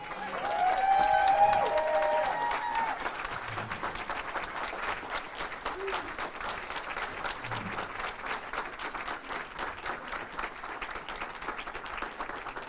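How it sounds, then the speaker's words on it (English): Sustained applause from a standing ovation at a community installation dinner, a dense roomful of clapping that swells early and then holds steady throughout, with a few voices briefly audible at the start. "Standing ovation from your staff."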